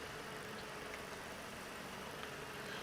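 A small tractor engine idles in the farming video game Farm Expert 2017, giving a steady, faint hum that runs unchanged throughout with no voices.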